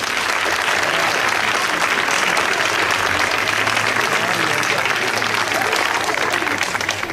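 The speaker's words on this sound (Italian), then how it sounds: "Un applauso a questi bambini." A crowd in a town square applauds children with steady, dense clapping throughout, fairly close and even in loudness, with faint voices underneath.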